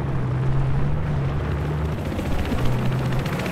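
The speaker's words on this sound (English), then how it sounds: "Enemy chopper at E." Enemy helicopter in the video game Battlefield 4, on a Shanghai map, a steady low rotor drone held throughout over dense rumbling battle noise.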